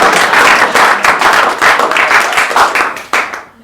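Audience applause at a live Hindi poetry show, a loud burst of dense clapping from a crowd close by. It holds steady for several seconds, then fades away at the end.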